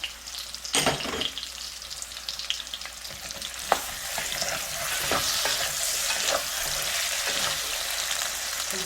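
Zucchini is stir-fried in a pan before gochujang goes in, for a zucchini gochujang stew. A loud, dense sizzle rises and stays steady, broken by sharp utensil scrapes and clicks, heard close with no talking.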